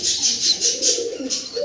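Soft, repeated cooing from a pair of Australian doves with brighter chirping bird calls pulsing over it, fairly close and steady throughout.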